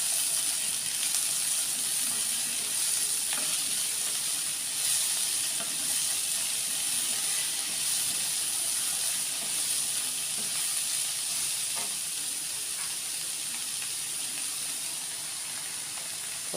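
Sliced spring onion sautéing with a little salt in a pan, giving a long, steady, moderately soft sizzle and hiss with occasional faint stirring clicks and no talking.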